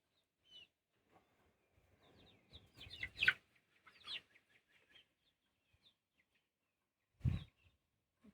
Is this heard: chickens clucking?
yes